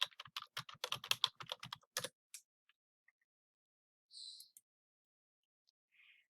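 Quick typing on a computer keyboard as a search query is entered: a dense burst of crisp key clicks for about two seconds, then a few isolated taps and faint high clicks in near silence.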